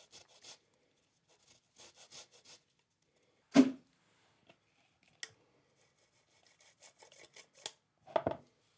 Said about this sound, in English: Finally, grate the zest of an orange.